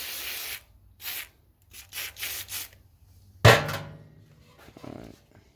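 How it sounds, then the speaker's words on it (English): Brisk rubbing strokes in short bursts of a paper towel wiping a car headlight sprayed with WD-40, with a sudden sharp knock midway and a faint spray-like hiss. "It's got a shot vac, little paper towel type thing."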